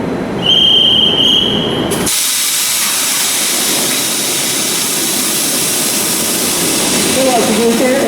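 The main engine of a new coastal cargo ship is started during a shore-based test run: a sharp burst of compressed-air hiss gives way to a steady, loud, broadband roar that continues throughout.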